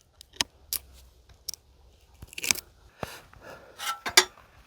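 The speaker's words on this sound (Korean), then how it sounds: "잘랐으면 좀 오목가위로 좀 보기 싫지 않게 좀 다듬어야 될 것 같습니다" A concave cutter snips at a snow-damaged bonsai branch, making a scattered series of close, sharp clicks and crisp cuts with short quiet gaps between them.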